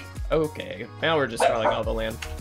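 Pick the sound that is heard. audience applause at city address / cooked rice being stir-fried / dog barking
dog barking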